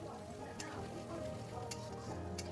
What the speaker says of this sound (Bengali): তারপর দিয়ে দিচ্ছি কেটে রাখা বেগুন, অর্ধেকটা টমেটো। আবারও ভালো করে কষিয়ে নেব।